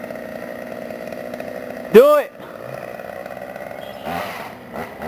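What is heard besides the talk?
chainsaw cutting through wood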